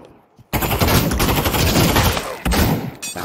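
Rapid automatic gunfire from a team deathmatch round in the VR shooter Pavlov VR, a loud sustained burst after a short quiet start, with a brief gap and renewed firing near the end.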